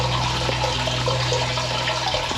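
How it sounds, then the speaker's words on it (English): Rainwater pouring into and out of a well, a dense continuous gush and splash of flowing water, close and steady, with no speech. "There's actually a lot of water pouring in and also a lot of water pouring out."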